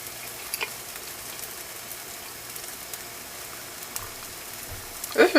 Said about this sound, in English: I'm also heating up some corned beef here.